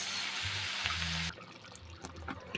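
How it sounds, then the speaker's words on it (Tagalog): Spaghetti sauce is poured into a pan holding cooked meat and hotdog, giving a dense wet rushing hiss that drops suddenly to quieter, scattered bubbling and splatter. "buhos na natin yung sauce"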